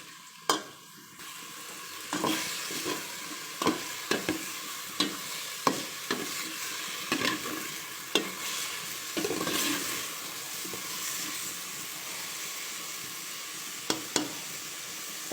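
Pork for sinigang na baboy sizzles in a pan while being stirred, with a soft continuous frying hiss broken by repeated sharp scrapes and clacks of the spoon against the pan.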